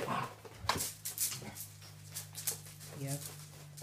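Otterhound puppies whimper and yip in short, scattered bursts, with a low steady hum running underneath and a brief higher whine near the end.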